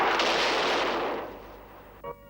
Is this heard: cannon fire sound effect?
yes